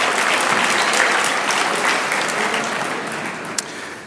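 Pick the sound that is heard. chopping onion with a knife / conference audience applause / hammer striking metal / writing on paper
conference audience applause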